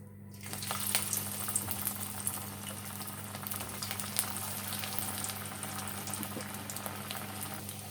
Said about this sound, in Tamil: எண்ணெயிலையும் போட்டு எடுத்துக்கலாம்.